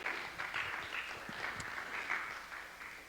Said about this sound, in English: Please give Councilman Allen another round of applause